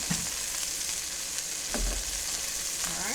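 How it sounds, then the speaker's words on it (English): Steaks sizzle steadily in a frying pan on a home stove, a continuous close, moderately loud hiss of fat with occasional soft pops and utensil taps. "I'm just watching these steaks while they finish cooking"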